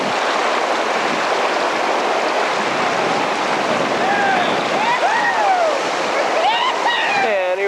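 Whitewater on the Ocoee River roars steadily as rafting crews smash through big waves, a dense constant rush of churning rapids with splashes, while faint shouts and whistling voices rise over the water toward the end.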